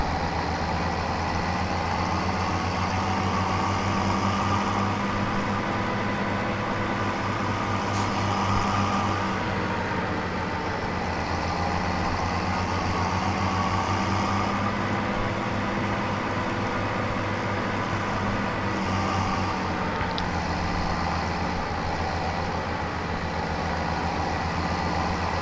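A New Holland 8340 tractor engine idles in a farming video game, giving a steady, continuous low drone that holds at an even loudness throughout, with no talking.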